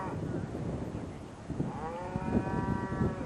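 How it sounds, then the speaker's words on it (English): A cow moos once, a drawn-out low call, somewhat distant beneath steady wind noise, in the countryside of Norway or Sweden. "we can hear a friendly cow back in the distance saying hello"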